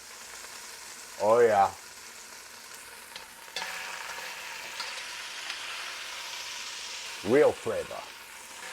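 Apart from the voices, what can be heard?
beef browning in a pot with garlic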